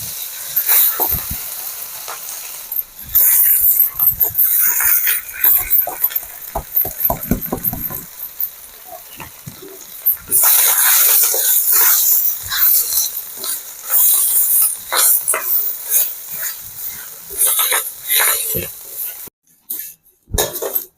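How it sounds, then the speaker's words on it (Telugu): Drumstick leaves frying in a spoonful of oil in a pan, a loud, steady sizzle and crackle with bursts of scraping and stirring, and a few brief pauses near the end. "ఇంకో చెంచా ఆయిల్ వేసుకొని మునగాకు కూడా తడి లేకుండా వేయించుకుందాం"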